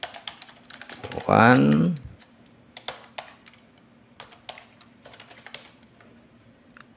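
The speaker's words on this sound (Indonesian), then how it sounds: "untuk bergerak antar text box kita cukup menekan tombol tab pada keyboard." Keys clatter on a computer keyboard while data is entered into an Excel form, in quick irregular bursts of taps across the whole stretch, broken once by a short spoken word.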